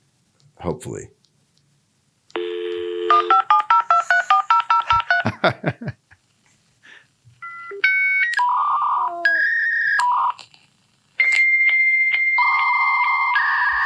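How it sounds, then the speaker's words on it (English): A dial-up internet modem connects: a dial tone and rapid touch-tone dialing, then screeching handshake tones, warbles and static bursts alternating in loud stretches with brief gaps, close and clear, with a short spoken word early on. "But this is the sound of dial-up internet."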